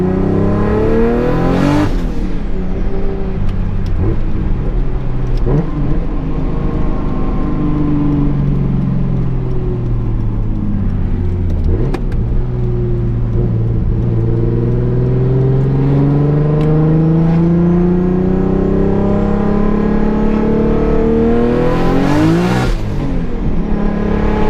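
A Nissan S14 fitted with an RB26/30 engine revs hard at full throttle, its loud, sustained engine note sweeping up and down through gears as it rips along at night, close and continuous with no talk.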